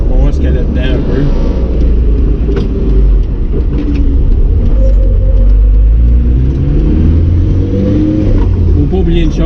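Volvo 240 from 1980 built as a drag car, its engine rumbling and revving steadily while driving, loud and continuous with people talking over it.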